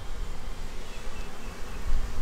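Honey bees swarm around a hive, a dense continuous buzzing that fills the air, close and steady with no voices.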